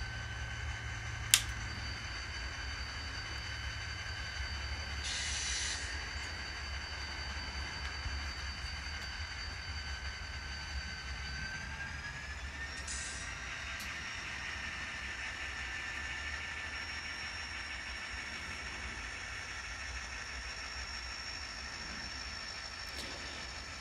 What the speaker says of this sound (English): While the locomotive is running around the train